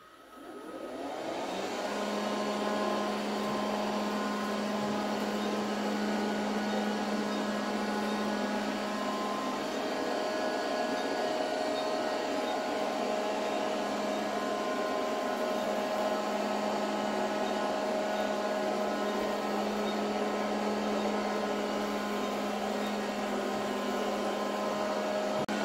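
A Silvercrest SSWR A1 robot vacuum cleaner with mop function runs its suction, a steady, fairly quiet motor whir with a constant hum that holds unchanged throughout.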